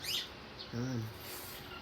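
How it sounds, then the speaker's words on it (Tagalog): A single short, low cooing call from a nearby pigeon, with faint chirps before it, quiet overall. "Ito ang aking napaka-amo, kalapati."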